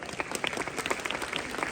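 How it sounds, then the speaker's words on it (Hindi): Loud applause from students at a road safety awareness program in a girls' school, many hands clapping in quick irregular bursts, steady and close throughout. "जोरदार तालियों के साथ।"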